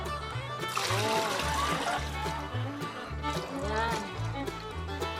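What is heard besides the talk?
pouring water into a chicken drinker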